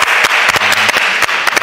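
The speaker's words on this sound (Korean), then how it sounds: "박수!" Audience at a badminton event clapping to welcome two players, a dense burst of hand claps with a few sharper claps standing out close by, steady throughout.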